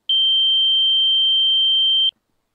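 A steady, pure high-pitched tone holds evenly for about two seconds, then stops abruptly into silence.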